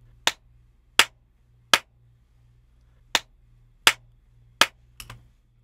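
Hand claps run through the D-Reverb plugin: six crisp claps in two triplets, each tail trimmed slightly short, over a low steady hum, with a small clattery knock at the end.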